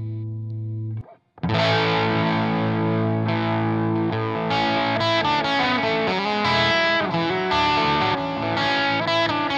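Electric guitar played through a Supreme JoyFX effects pedal switched on, giving a heavily distorted tone with a delay trail. After a brief pause, dense sustained chords and riffs ring out loudly and continuously.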